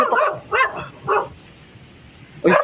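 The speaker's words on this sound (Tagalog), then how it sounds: "may aso pala sa silong" A dog barks three times in quick succession, then once more after a short pause, fairly close and loud.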